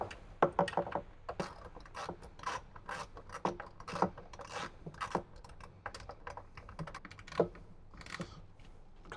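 A 10mm ratchet tightens bolts on a speaker mount inside a 2018-2023 Jeep JL, giving close, steady runs of quick dry clicks and rasping turns with brief pauses between strokes.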